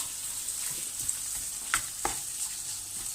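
Rice sizzles steadily in a hot pan for lemon rice, a soft continuous frying hiss broken by a few faint stirring scrapes.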